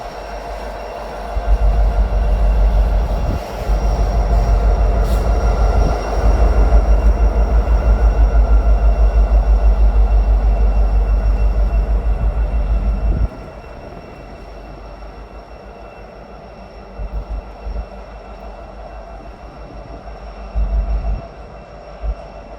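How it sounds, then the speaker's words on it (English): CSX freight train with BNSF locomotives rolling past on the Grand Rapids Subdivision, a loud, close rumble of wheels and cars that drops off partway through, leaving quieter rail clatter. "Here running up the end of the train, we have yet another BNSF ace."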